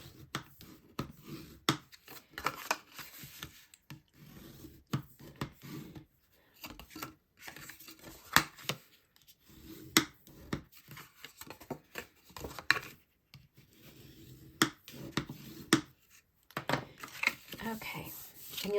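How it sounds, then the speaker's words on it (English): Bone folder rubbing and pressing along scored mountain and valley folds in card paper for a gatefold card, a series of short dry scraping and rubbing strokes with brief pauses, close and fairly faint. "I'm going to use my bone folder to reinforce those."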